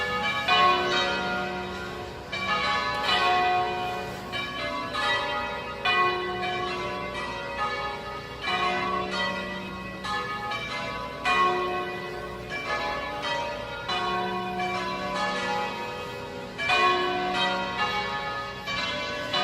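Church bells of St. Margaret of Antioch in Vernazza, Cinque Terre, peal continuously in overlapping, resonant strikes, ringing in a steady rhythm with a rich, sustained tone.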